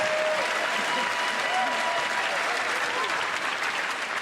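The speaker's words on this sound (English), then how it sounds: "I don't know if we should applaud that one" Steady, dense applause from a studio audience at a TV talk show comedy appearance, loud and continuous throughout with a faint crowd murmur underneath.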